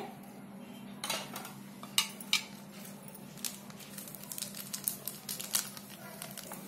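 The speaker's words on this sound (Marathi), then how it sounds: "चांगलं असं मिक्स एकदम घुटून घ्यायचं आणि एका बाजूनेच असं फिरवायचं" A spoon stirs rava poha idli batter in a steel bowl after Eno and baking soda are added, giving scattered close scrapes and clinks over a low steady hum, with no talking.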